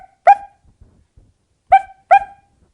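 A dog barks three times, one sharp bark followed after a pause by two close together, clear and fairly near with quiet gaps between.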